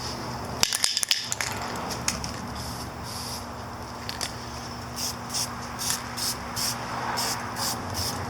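Rust-Oleum automotive enamel gloss paint hisses from an aerosol can in cold outdoor air while parts of a Yamaha Virago 250 bobber get a light coat. Short sprays pulse in a steady rhythm after a few clattering knocks.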